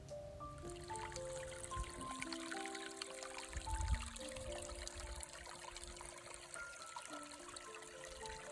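A steady trickle of running water from a stream near a campsite on the trail to the Plains of Abraham, continuous and fairly close, with soft music playing over it and no voices.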